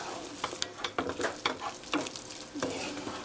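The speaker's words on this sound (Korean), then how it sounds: "이제 불 끄시고요. 이렇게 고루 섞어주세요." Beef sauce being stirred in a pan with the heat just switched off, giving repeated soft scraping and stirring strokes over a faint sizzle, close up and steady, with no talking.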